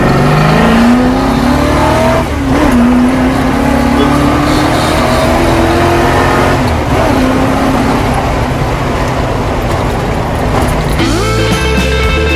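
A 1969 Plymouth Barracuda with a 6.9-litre engine accelerating hard, a loud close engine roar climbing through gears with rising revs and shifts, in traffic, with someone talking over it.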